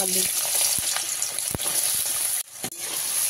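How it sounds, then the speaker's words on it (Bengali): Potatoes sizzle in hot white oil in a wok, a steady loud broadband fry with a few sharp clicks and scrapes as the pieces are stirred. "আলুটাকে তেলের মধ্যে দিয়ে একটুখানি নাড়িয়ে নিয়ে"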